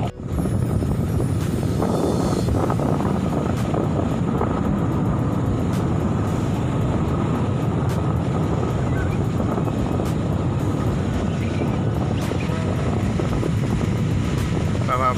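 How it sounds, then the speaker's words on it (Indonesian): A fishing boat landing on the beach at Depok Beach, Bantul, heard as a continuous loud engine drone mixed with wind and surf noise, with a voice talking over it. "Baru saja ada sebuah perahu mendarat."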